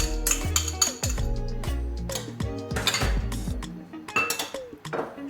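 Red cabbage salad with dressing being tossed with utensils, giving dense, irregular clinks and scrapes of metal against a bowl, close and fairly loud, with no talking.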